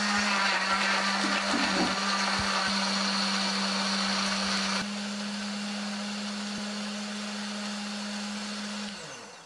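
A kitchen blender grinds chili, candlenut, shallot, garlic and tomato with a little water in a loud, steady whir. The pitch drops partway through, and the motor cuts off near the end.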